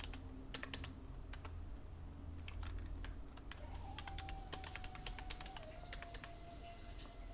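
Quiet clicking of a computer keyboard as a password is typed, with irregular bursts of keystrokes over a faint background hum and a soft tone partway through.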